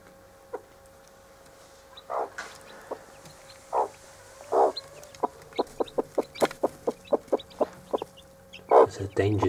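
A mother hen guarding two-day-old chicks gives a danger call of rapid, sharp repeated clucks that speed up into a dense run. Soft chick peeps and a faint tone sit underneath, close by.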